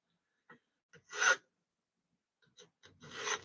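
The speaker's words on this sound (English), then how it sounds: "Right now, I'm just filing these to be more round and smooth." Silver pieces being filed round and smooth at a silversmith's bench, heard as a few short rasping strokes, then two longer, louder scraping bursts separated by a quiet gap, close up with no talking.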